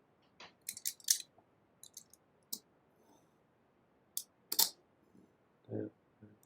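Paper being cut along a ruler while building a zoetrope: a sequence of quiet, sharp clicks and short scraping strokes close by, with small bursts separated by pauses and a soft low shuffle near the end.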